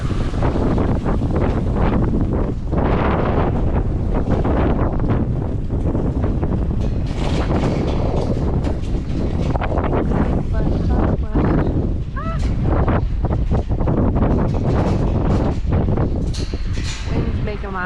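Strong wind gusts roar across an outdoor farm, buffeting the microphone with constant rumbling noise throughout, while people talk and call out over it.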